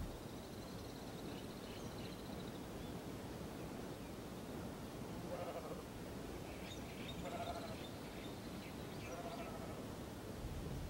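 Sheep at a herders' tent camp on the mid-slope of the Zarafshan Mountains, a few faint, distant bleats rising over a constant rush of wind.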